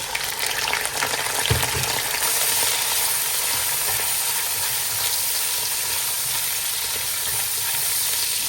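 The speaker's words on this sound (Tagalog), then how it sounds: "Fry natin yung atay." Chicken liver frying in hot oil with garlic in a pan, a steady, dense sizzle and crackle that fills the whole stretch, close and fairly loud with a brief stir bump early on.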